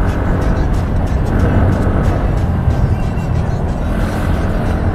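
Ntorq scooter and NS motorcycle racing fast on a wet road, a steady loud roar of engines and rushing wind filling the whole stretch without a break.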